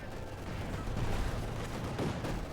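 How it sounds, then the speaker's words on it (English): An RGD-33 grenade detonates in a Company of Heroes 2 battle, buried in a dense, roaring wall of gunfire and explosions that stays loud and unbroken throughout. "Quick grenade here, the RGD-33."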